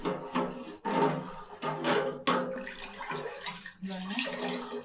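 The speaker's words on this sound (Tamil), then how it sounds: "கொஞ்சமாக தண்ணி கலந்து ஊற்றிக்கணும்" Water mixed with leftover rice flour pours in several splashing surges while making vennai puttu, close and moderately loud.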